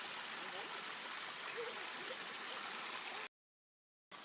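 Jungle stream water flowing downhill, a steady close rushing hiss for about three seconds that cuts to silence, then resumes briefly at the end.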